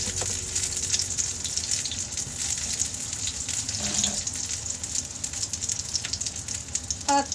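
Washing under a running kitchen tap: a steady, fairly close hiss of flowing water with light splashes and clinks throughout.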